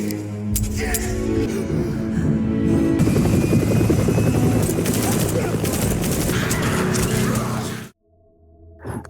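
Helicopter in a zombie survival film scene, loud thudding rotor chop with mechanical drone lasting about eight seconds, mixed with dramatic sounds and tense score, then cutting abruptly to near silence before a faint return.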